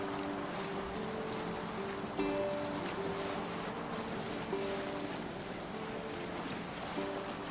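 A boat sailing on water in the video game Assassin's Creed Valhalla, with a steady wash of waves and wind over a low, continuous rumble and faint tonal music lines throughout.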